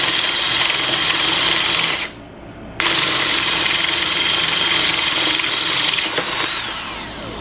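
A drill bores a hole through a motor starter, giving a loud, steady high-pitched whine. It breaks off briefly for under a second, then runs on continuously close by.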